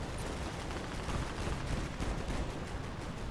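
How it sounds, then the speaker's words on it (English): Dense, rumbling barrage of explosions and gunfire from an artillery strike on enemy vehicles in Call of Duty: Modern Warfare 2, a continuous low heavy roar throughout. "Artillery on the enemy vehicles."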